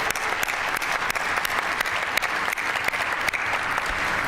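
An audience at Ford Field applauds frontline healthcare workers and volunteers during a mass vaccination event, a sustained, even wash of many hands clapping at moderate distance, with no voices over it.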